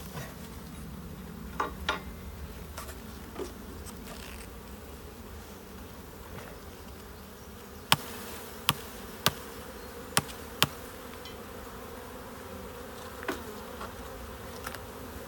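A swarm of honey bees from a nucleus hive being moved into a ten-frame hive hums as a low, steady drone, with a few sharp wooden clicks and taps scattered throughout; no voices.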